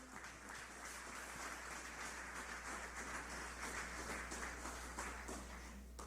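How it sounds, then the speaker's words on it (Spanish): A church congregation applauds during a Spanish-language Sunday sermon, a faint, steady wash of clapping under a low hum, sustained evenly from start to finish. "¿Le puedo dar una ofrenda de palmas al Señor?"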